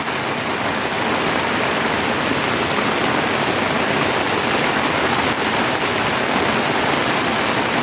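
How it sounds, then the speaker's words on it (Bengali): Heavy rain pours down in a morning downpour, a loud continuous hiss of drops hitting surfaces, steady and unbroken throughout with no voices. "বৃষ্টি"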